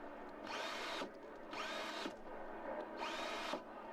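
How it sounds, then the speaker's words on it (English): A power drill drives screws into wood during a national screwdriving race at Phoenix International Raceway, with three loud, steady whining bursts separated by short pauses. "to put 5 screws into a piece of wood to win a national contest"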